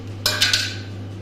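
A spoon stirs fruit salad of grapes and coconut in a bowl, giving a short burst of three close scraping clinks against a steady low hum, with no talking.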